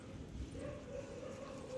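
A dog gives soft yips and whimpering whines at a house in India, fairly faint and somewhat distant over a low background rumble, with no clear speech.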